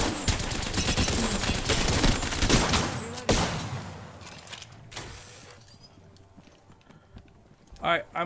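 Rapid, loud clattering footsteps approach in the Apex Legends video game, mixed with dense bursts of gunfire, then thin out into quieter steps before a short final burst.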